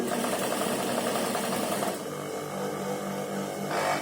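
A sewing machine stitching slippery linen fabric along a fused seam for a kurti, a fast, steady mechanical whirr running close and continuous, briefly easing and then resuming.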